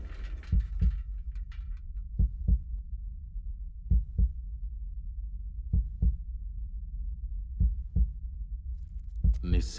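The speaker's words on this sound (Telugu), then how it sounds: "నిశ్శబ్దంలో మన గుండె చప్పుడు కూడా మనకు భయాన్ని కలిగిస్తుంది" Heavy double-thump heartbeat used as a sound effect, beating slowly and evenly about five times over a low steady rumble in otherwise near-silent surroundings, with a brief rush of noise at the very end.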